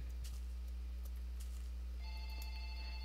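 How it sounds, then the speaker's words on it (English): A phone ringer sounds in a room, with faint high electronic tones entering partway through over a loud low steady hum, alongside scattered soft clicks. "there goes my phone again. I am gonna turn that ringer off"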